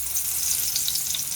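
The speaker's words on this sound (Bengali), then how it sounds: "তেলটা দেখো ভালো মতন গরম হয়ে গেছে। এবারে আমি পটলগুলোকে ছেড়ে দিচ্ছি।" Pieces of pointed gourd sizzle steadily in hot oil in a kadai, a dense, even crackle with small spitting pops, close and continuous with no talking.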